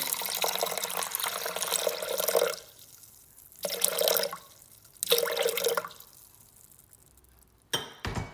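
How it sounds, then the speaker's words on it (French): Water is poured in several separate bursts into a Thermomix bowl set on a scale, 400 g measured for potato and cheese waffles. Each pour splashes near and clear, with short quiet pauses between, and ends in a brief clink. "Ma balance et je mets mes 400 g d'eau."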